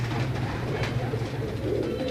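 Breeder pigeons coo in a steady, low, continuous murmur that runs throughout, close by and fairly loud, with no clear talk.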